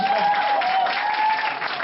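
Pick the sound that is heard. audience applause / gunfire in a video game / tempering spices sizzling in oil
audience applause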